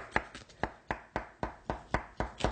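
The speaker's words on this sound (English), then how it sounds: "just using a knife, I'm just going to go around and cut this shape out" A knife cuts a shape out of a cake with a steady run of about nine short, crisp taps, evenly spaced and close by, with no other sound.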